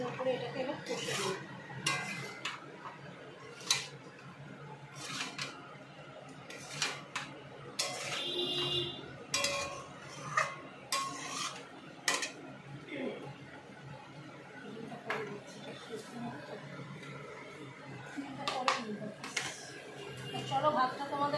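Duck egg curry with spices being stirred and fried in a pan, irregular clinks and scrapes of a utensil against metal over a low sizzle, with a voice talking at points.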